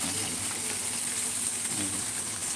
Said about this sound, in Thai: บริเวณนี้ครับก็จะเป็นน้ำตกครับ น้ำตก